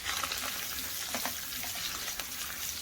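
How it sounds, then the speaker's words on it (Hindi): Thinly sliced onions fry in oil for Mughlai mutton gravy, a steady close sizzle and crackle with light stirring ticks throughout. "ऑनियन को फ्राई कर लूंगी।"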